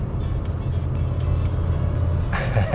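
A Honda WR-V with a 1500 cc, 121 PS engine drives along, producing a steady low rumble of engine and road noise heard close from inside, with a brighter rush near the end.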